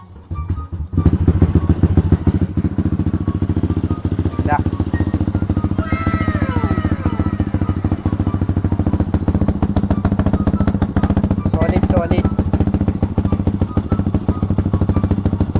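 A motorcycle engine, fitted with a re-elbow exhaust, runs at a steady loud idle for a sound check after starting, a dense close rumble with a regular rapid pulse, brief clatter and occasional rising revs.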